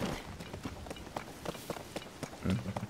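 A horse runs with rapid rhythmic hoofbeats in Zelda: Tears of the Kingdom, fairly quiet and steady, with faint talking over it.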